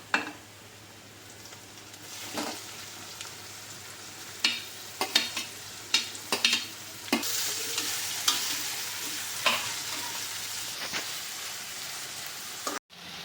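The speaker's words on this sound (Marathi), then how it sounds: "लसूण थोडासा सोनेरी झाला की यावर आता घालूया कांदा." Onion added to hot oil with golden garlic and asafoetida, a steady close sizzle broken by repeated scraping stirs of a spatula, without any voices.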